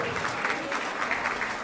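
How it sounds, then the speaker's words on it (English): A crowd at a charity auction event claps steadily for donors, a continuous wash of applause that holds an even, moderate level for its brief length. "Let's give all of those donors a big round of applause."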